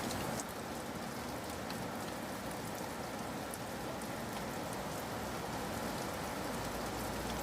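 Heavy rain pounds steadily against windows on a stormy night, a dense, even hiss with no breaks, fairly soft and alone without any talk.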